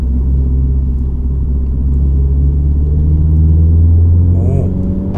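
A 2023 Mini 3-door John Cooper Works rumbles with a deep, steady engine hum from inside the cabin while driving, swelling slightly louder midway, as people talk over it.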